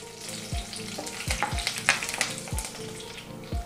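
Chana dal, curry leaves and dried red chillies fry in hot oil with a crackling sizzle, while a spoon knocks and scrapes the pan in several distinct strokes.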